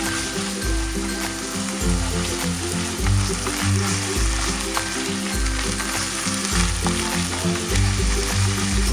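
Canned tuna sautés in a hot pan for a tuna and tofu sisig, giving a steady, loud sizzle with frying crackle and occasional stirring scrapes throughout.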